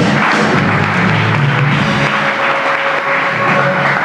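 An audience at a recorded talk-show podcast breaks into steady, fairly loud applause that runs without pause for several seconds, with no speech over it.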